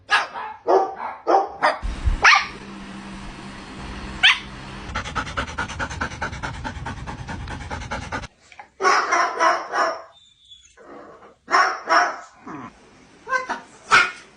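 A dog squabbling with a parrot lets out repeated sharp barks and yips in quick bursts, close and loud, with panting and a noisy scuffling stretch in between.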